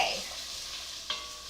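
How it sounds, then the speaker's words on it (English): Food sautéing in a pan while making spaghetti with meatballs and sauces gives a faint, steady broadband sizzle, with a brief clink or scrape near the end. "so we gotta let that saute for a little bit"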